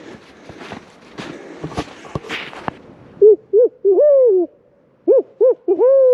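A person imitates an owl with a series of hooting calls in short bursts, loud and close, on public land in southern Ontario. Footsteps crunching through brush come before the calls.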